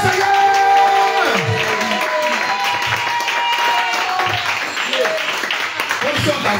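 Church congregation applauding and acclaiming the Lord during a praise and worship service, a loud sustained mass of clapping and cheering voices, with a sung or called voice rising above the crowd.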